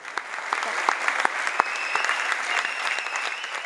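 An audience applauds after an Édith Piaf show, with dense steady clapping punctuated by a few sharper close claps, continuous and fairly loud throughout.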